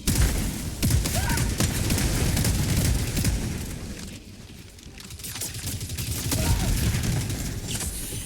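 Grenade blasts and heavy combat in the video game Helldivers 2, with rolling booms and a thick barrage of gunfire, loud and continuous, easing slightly midway before swelling again.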